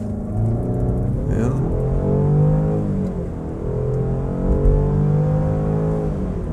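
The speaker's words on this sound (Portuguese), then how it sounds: "Você percebe assim o rosnado motor" A Land Rover Defender 90 SE engine revs up and climbs through the gears, a deep growling whine rising and falling steadily, heard from inside the vehicle.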